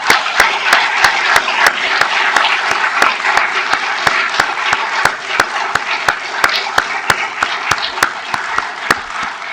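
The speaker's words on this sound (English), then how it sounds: "Please join me in a round of applause for my dad's life in celebration." An audience at a memorial tribute claps in sustained, dense applause for nearly ten seconds, steady and fairly loud, with a few sharper individual claps standing out near the microphone.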